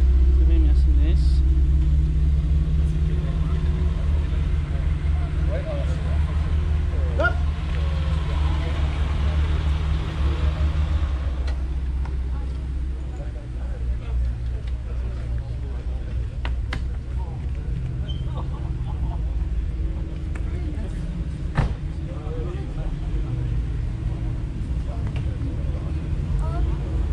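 Deep steady engine rumble of a Porsche at a July 14 car gathering in Beynes, continuous and fairly loud outdoors, with people talking over it.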